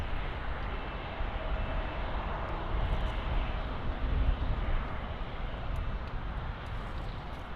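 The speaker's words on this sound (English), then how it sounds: "the Star Alliance liveried A319. And that A319 is going to be going to Warsaw. It's LH1612." A Lufthansa Airbus A319 in Star Alliance livery, bound for Warsaw as LH1612, roars steadily at Munich Airport, a broad engine rumble that swells slightly mid-way and holds with no talk.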